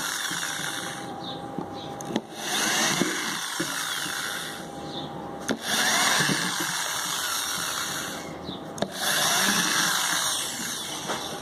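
A drill with a thin bit bores a pilot hole into wood, whining in sustained bursts with short pauses between them, close and fairly loud, without speech.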